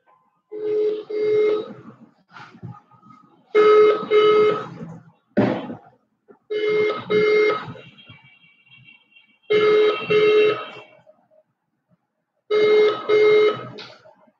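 A phone call to a raffle winner rings out as a series of loud, evenly spaced ringback tones, five bursts with silent gaps, heard alone without talk.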